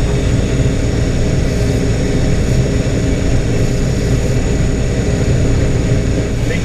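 A John Deere harvester convoy, led by a utility vehicle, travels along a road during the rapeseed harvest, producing a loud, continuous, close engine roar throughout.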